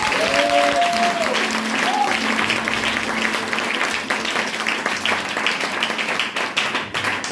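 A church congregation applauding Jesus during a service, dense sustained clapping for about seven seconds with a brief voice near the start.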